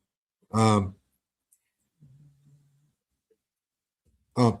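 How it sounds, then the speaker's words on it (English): An English bulldog snores with two loud, rough snorting breaths about four seconds apart and a faint low rumble between them. "There is a dog snoring."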